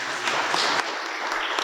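An audience claps steadily through a panel debate, a continuous dense patter of hands at moderate volume with no voices over it.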